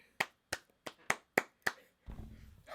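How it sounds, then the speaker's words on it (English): A short run of six sharp, evenly spaced hand claps from a small group, fairly close, followed by a rougher low-level rustle or scuffle at the end. "I don't know why are we clapping?"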